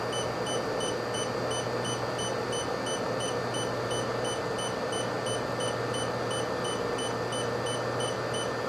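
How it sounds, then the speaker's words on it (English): Steady, regularly repeating electronic overload warning beeps from a LICITTI 12-volt battery box power inverter, drawing about 1,157 watts, sound over a constant loud hum, continuing evenly throughout. "All right, the unit starts beeping."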